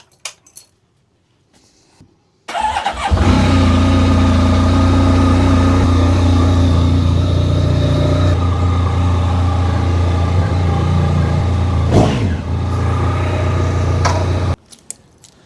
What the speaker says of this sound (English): you could hear the battery was really struggling then